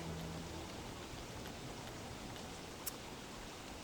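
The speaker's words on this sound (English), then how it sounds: "Oh, it is really coming down now. This rain is not good for you in this game." Heavy rain pours in the video game Don't Starve: Reign of Giants, a dense, even wash of noise with scattered drop ticks and one sharp click near the end, with no voices.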